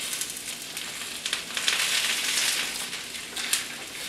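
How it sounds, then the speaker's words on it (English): Green peppers sizzling in a skillet, a steady hissing fry with small crackling bursts in the background, continuing for several seconds with no talk. "I can hear my green peppers sizzling in the background"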